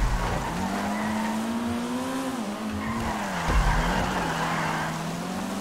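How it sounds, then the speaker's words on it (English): A car in GTA 5 Online drifts around a corner with a long, loud, continuous tire squeal over a steady engine drone, with no voices. "A little drifty drift around the corner."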